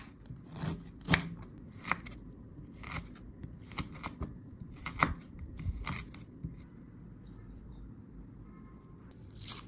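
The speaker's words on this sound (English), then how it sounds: "Peel the ginger and slice it thinly." A knife thinly slices peeled ginger on a cutting board, giving a brisk series of crisp, close cuts in uneven rhythm, with brief pauses between strokes.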